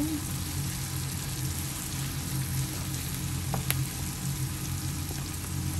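Chicken sautéing in a pan for pancit bihon, a steady close sizzle and crackle running throughout with a few light clinks, no voice over it.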